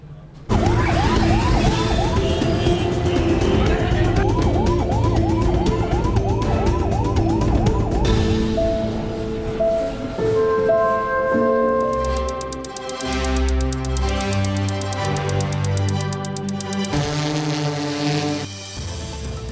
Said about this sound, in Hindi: सायरन बजाती एम्बुलेंस जिस रास्ते से गुजरती है